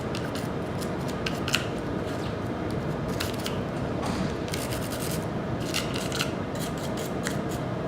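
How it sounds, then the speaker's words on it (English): A small brush scrubs the trigger mechanism and trigger bar of a Glock pistol receiver, a steady close-up bristly rasping with quick brighter strokes throughout. "Try to get any excess you can see and just scrub out the best you can."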